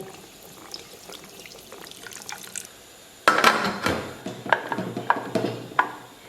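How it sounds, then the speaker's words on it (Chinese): Soy sauce pours into a pot of simmering beef stew in a kitchen, a short liquid splash starting midway, followed by several small drips and bubbling sounds, close and moderately loud. "稍微咱们给里边搁点盐，然后给里边来点生抽"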